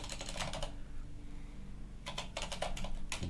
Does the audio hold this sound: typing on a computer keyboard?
yes